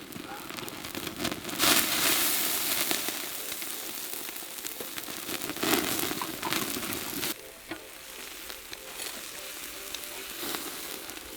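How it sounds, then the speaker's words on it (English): Fatty pork belly with the rind on, roasting over an open wood fire outdoors by a lake, drips fat onto the flames. A dense crackling sizzle rises in bursts, then briefly drops quieter before continuing. "it's so much more fatty and it just drops all its fat on the fire"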